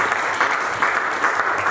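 A church congregation claps together in a short burst of dense, steady applause filling the room, with no one speaking over it.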